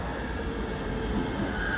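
An Inspiro metro train, number 49, passing through Rondo ONZ station in Warsaw on a technical run, giving a loud, steady, close rumble of wheels and motors that fills the whole stretch.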